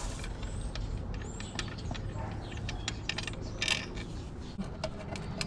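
Ratchet wrench clicking as bolts are tightened during a BLOX plenum spacer install on a G35 sedan, producing repeated short mechanical ticks and clacks, fairly faint and close, with no talking.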